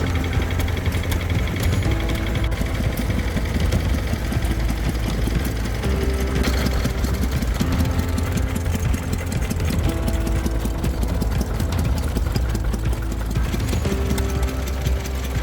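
A Southern Cross 6 hp type P stationary engine runs at an engine display in a continuous, busy mechanical chugging. It stays steady and close throughout, with a regular knocking rhythm and no talk.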